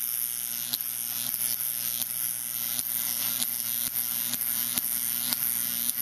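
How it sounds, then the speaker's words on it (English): A standard Jacob's ladder electric arc gives off a continuous harsh, crackling buzz, broken by sharp snapping pops at irregular intervals as the arc climbs and restarts. "We have just a standard Jacob's ladder."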